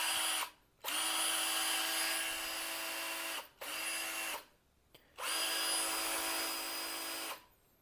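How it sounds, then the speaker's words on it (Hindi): An Ingco 20V lithium-ion cordless drill runs in three bursts of steady high-pitched motor whine, each starting and stopping sharply with short quiet gaps between them, fairly faint and with no talking. "ये आती है जी कॉर्डलेस ड्रिल 20 वोल्ट की"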